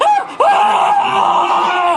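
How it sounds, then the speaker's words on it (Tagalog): A man screams loudly in an audio drama, a long strained cry that breaks briefly and then resumes, harsh and close. "Ang lakas naman ng sigaw ng lalaking yun."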